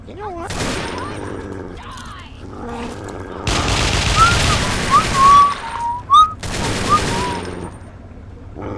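A character stealth-whistles a short tune in Fallout 3 amid bursts of gunfire and booming combat, the thin whistle notes rising over loud shots.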